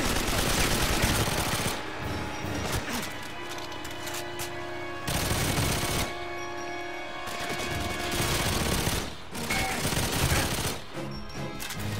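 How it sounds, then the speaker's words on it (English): Gunfire in GoldenEye 007 Reloaded on the PS3 Station level: dense, loud automatic bursts and rapid shots fill a firefight almost non-stop, with brief lulls between volleys and no talking. "this is pretty much a firefight level. You're just going to be shooting crazily non-stop."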